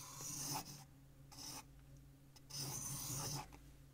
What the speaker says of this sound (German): stecht nun in A ein und zeichnet einen Kreis mit dem eingestellten Radius 4 cm